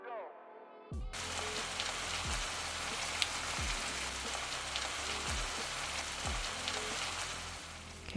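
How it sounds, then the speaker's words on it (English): Fresh chillies fry in hot oil over medium heat for a pepper sauce, giving a loud, dense, steady crackling sizzle that starts abruptly after a brief tonal sound and continues without a break. "adding that to some hot oil and I'm going to cook that over a medium heat"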